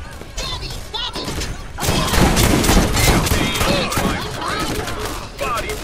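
Chaotic rapid gunfire in the video game Borderlands, loud overlapping shots and impacts that intensify midway, with voices talking over the combat.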